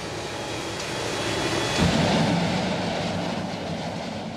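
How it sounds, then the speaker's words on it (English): A deep, rumbling aircraft engine being run up on the ground at an airfield swells up and then holds loud and steady with a powerful low thrum. "the airport shook to the thunder of the engine being run up and down."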